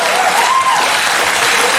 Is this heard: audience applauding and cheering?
yes